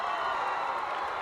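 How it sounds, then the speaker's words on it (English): A football stadium crowd during a tied 2024 Cannon Game sends up a steady roar of cheering, a broad, even wall of noise heard from a distance with no distinct voices. "You can hear the crowd. They're going crazy."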